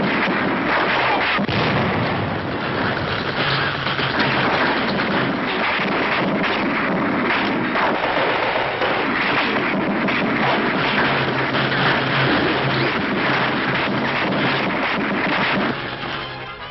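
Artillery fire striking a German tank in WWII combat, heard as a dense, rumbling barrage of blasts and crashes through a harsh, muffled old newsreel soundtrack with no talk.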